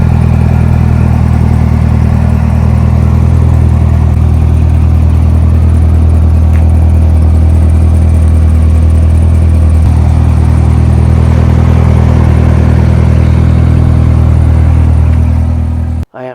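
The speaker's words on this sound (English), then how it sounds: "now listen to this car idle" A 2019 Corvette ZR1 with a 755 hp engine idles close by, a steady deep rumble with a slight lope that holds evenly throughout and cuts off at the very end.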